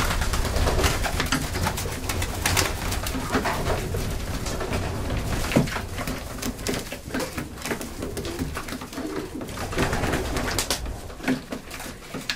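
Many racing pigeons cooing together in a dense, murmuring chorus, with fluttering and scraping sounds mixed in close by.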